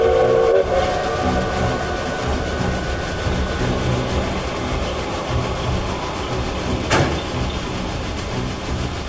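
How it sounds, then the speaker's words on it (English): A steam locomotive whistle sounds once, briefly and moderately loud, over a steady rumbling train running through a storm with constant rail noise throughout. "I'll blow the whistle."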